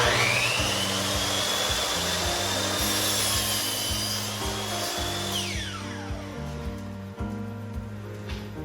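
Power saw cutting plywood strips into shelves for a storage cabinet, a loud continuous whine with rhythmic motor hum, then the blade spinning down toward the end.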